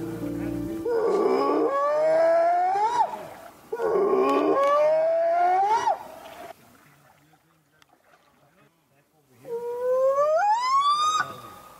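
A recorded Bigfoot howl call blasts from a speaker while crossing a lake: three long, loud wailing howls that rise in pitch, the first two back to back and the third after a quiet gap.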